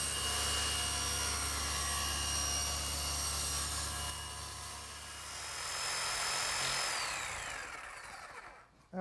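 An electric jigsaw cuts a slot in a wood workbench top, a loud, steady motorized buzz with sawing chatter that swells and eases as the blade works through, then cuts off abruptly at the end.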